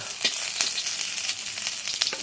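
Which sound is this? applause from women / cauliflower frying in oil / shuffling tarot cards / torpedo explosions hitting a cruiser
cauliflower frying in oil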